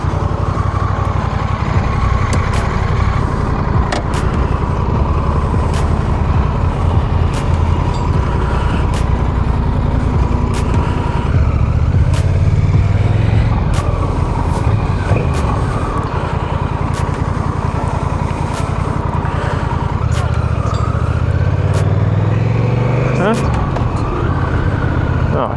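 Honda Rebel CMX 1100 Touring motorcycle riding on a sunny day, a loud continuous engine drone with rising and falling revs as gears shift, close to the microphone, with a rider talking over it.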